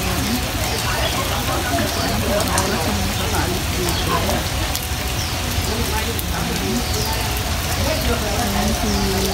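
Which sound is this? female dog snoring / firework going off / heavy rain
heavy rain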